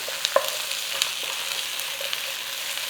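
Potatoes cook in a hot pan for a creamy roasted-garlic soup, giving a steady, even sizzling hiss with a few small pops and clicks, close and continuous, with no talking.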